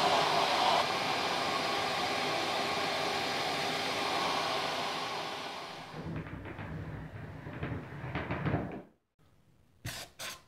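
Vacuum cleaner sucking dust out of a motorcycle brake drum on a Ducati Monza 160, a loud steady rushing whine that stops about two-thirds through, followed by a few close clunks and knocks.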